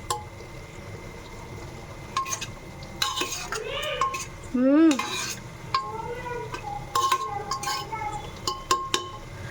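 Chicken masala mixture stirred in a pressure cooker, with repeated metal scraping and clanking of a spoon against the pot, wet squelching and a few sharp knocks, close and uneven.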